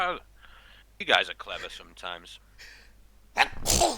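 A loud, sharp sneeze bursts out at the end, following a stretch of casual conversation among players at a Dungeons & Dragons tabletop session.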